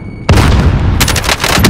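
Grenade blast in the Call of Duty: Modern Warfare video game, a sudden loud boom with a long rumbling tail, followed by further sharp cracks and bursts of gunfire amid the battle.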